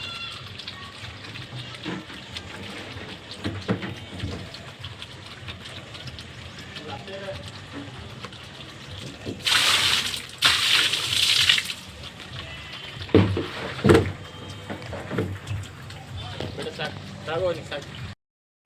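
Water splashes and gushes in two strong bursts, with quieter scrubbing and clattering around them and a voice talking throughout.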